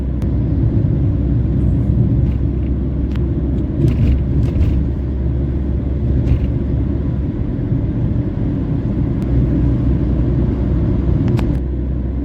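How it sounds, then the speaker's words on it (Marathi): Steady, loud road and engine rumble from a vehicle overtaking an MSRTC Shivshahi bus on the Kolhapur–Pune highway, a continuous droning roar with no clear breaks or peaks. "आता आपण सुद्धा शिवशाही गाडीला ओव्हरटेक करत आहोत"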